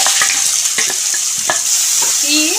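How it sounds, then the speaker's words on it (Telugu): Finely sliced onions and green chillies fry in oil for an ivy gourd curry. A loud continuous sizzle carries several quick scraping stirs, and a short squeak comes near the end. "ఉల్లిపాయలు మూడు పచ్చిమిరపకాయలు ఈ నూనె వేసుకొని వేసిస్తారు"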